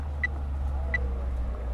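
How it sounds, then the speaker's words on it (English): A car approaches in a horror video game as a low, steady engine rumble that holds throughout, with two brief high chirps and no talking. "I hear a car approaching."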